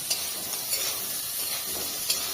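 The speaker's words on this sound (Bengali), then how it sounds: "এই তো চিংড়ি মাছটা ভাজি সুন্দর করে" Shrimp fry in a pan in a village kitchen with a constant close, loud hiss of sizzling oil, broken by a few soft scrapes and stirs of a utensil.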